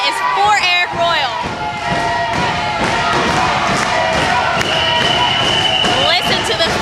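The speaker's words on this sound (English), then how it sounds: "Listen to the fans erupt and cheer." Wrestling fans roar and cheer inside a packed community-club arena at an independent pro wrestling show, a loud continuous crowd din with shouts and thuds, and voices rising above it throughout.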